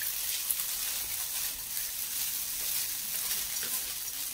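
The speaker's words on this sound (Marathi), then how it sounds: "आता मी 1-2 मिनिटं चांगलं व्यवस्थित परतून घेणार आहे" Lemon idiyappam rice noodles stir-fried in a pan, giving a steady, close sizzle with soft scraping and stirring noises throughout, no voices.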